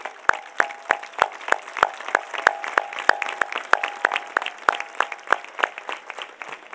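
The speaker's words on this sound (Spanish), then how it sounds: "A todos ellos, el aplauso más fuerte." Steady applause from an audience at a Christmas lights switch-on event in La Orotava, honoring students and staff of the municipal music and dance school. Sharp, rhythmic claps ring out loudly over a faint tonal hum, with no voices heard.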